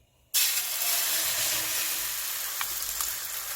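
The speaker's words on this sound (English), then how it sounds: "Add 1 teaspoon of oil to a pan. And then add half of your egg to the pan." Beaten egg poured into a pan with a teaspoon of oil over medium-high heat for kimbap, bursting into a loud, close, steady sizzle after a brief quiet start, with no voices.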